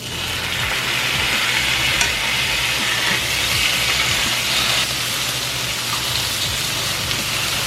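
Cucumbers cooking in oil in a pan, a loud, dense, continuous sizzle with a steady crackle close by and a low hum underneath, no voices.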